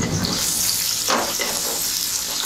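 Chopped onion, garlic and green chili frying lightly in oil in a pan, an even broadband sizzle with a short louder stir-like burst near the middle.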